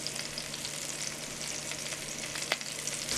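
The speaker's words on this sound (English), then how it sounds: "the first step to braising is browning, and I want to get as much surface area directly on the pan as I can" Pumpkin pieces brown in a hot pan, giving a steady close frying hiss with light crackles and one sharp tap partway through; nobody speaks.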